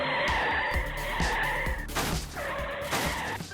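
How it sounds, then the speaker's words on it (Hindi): Cartoon car swerving through a sharp turn, its tires squealing and skidding loudly over a busy animated soundtrack, with the screech easing and returning across a few seconds. "गाड़ी घुमाओ मेरे साथी।"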